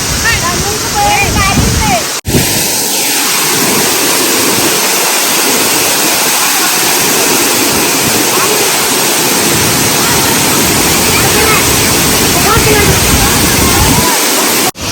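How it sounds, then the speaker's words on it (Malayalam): Alakapuri waterfall at Sasippara roars as a steady, loud broadband rush of falling water filling the whole stretch, with a brief dropout early on and faint voices now and then beneath it. "വെള്ളച്ചാട്ടം നമ്മളെ ഫ്രീ ആയിട്ട് കുളിപ്പിച്ച് തരും"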